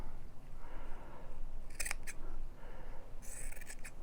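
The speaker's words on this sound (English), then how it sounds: "I'm going to cut it down." Scissors cutting a strip of sari trim fabric: two quick crisp snips, then a short cluster of fabric cuts a little later, heard close against a soft room hiss.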